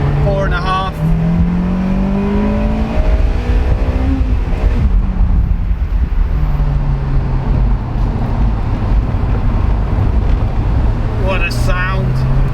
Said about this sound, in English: Quick demonstration of power. So we're in second gear now